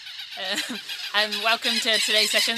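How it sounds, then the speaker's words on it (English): Many geese and other fowl honk and squawk in repeated bursts close by outdoors, their calls overlapping while a person speaks over them. "There's a lot of birds around"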